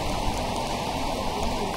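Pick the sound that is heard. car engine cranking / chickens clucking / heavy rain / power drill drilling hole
heavy rain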